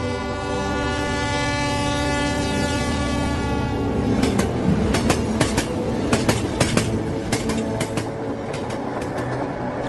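A train sounds in a rural Bengal setting, with a sustained whistle-like tone fading into a steady rumble and rhythmic clickety-clack of wheels over rail joints, loud and close.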